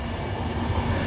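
A train rumbles past nearby, a steady low roar of rolling rail cars with faint metallic overtones, heard alone for a brief moment.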